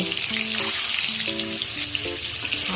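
Eggs fry in oil in a kadai, a steady, bright sizzle and crackle that fills the whole moment, with a faint tonal melody running underneath and no talking.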